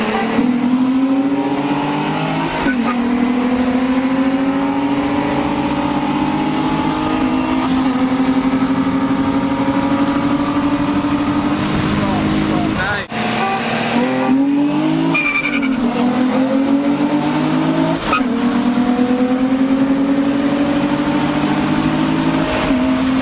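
Drag racing cars roar and accelerate through repeated rising engine revs with tire squeal, loud and continuous for over twenty seconds with a brief break midway and no voices.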